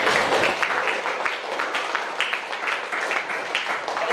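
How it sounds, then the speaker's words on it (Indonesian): A school class claps together in agreement, a dense crowd of hands forming a steady wash of applause that runs continuously from start to finish, loud and close, with no talk over it. "kalau sepakat, tepuk tangannya bersama"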